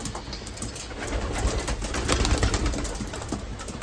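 Racing pigeons in a loft coo steadily while being fed, a soft continuous murmur of many birds close by with faint rustling.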